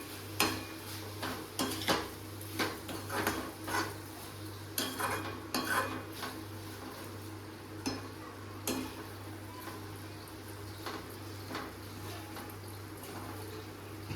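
Bitter gourd curry being stirred with sugar in a pan, with a long run of clinking, scraping spoon strokes against metal, busy at first and thinning out, over a low steady hum.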